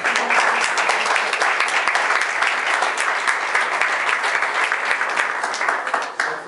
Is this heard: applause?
yes